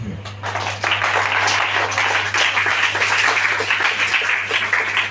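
A church congregation applauds and cheers in dense, steady clapping that swells after a moment and holds, with voices calling out over it and a low electrical hum underneath.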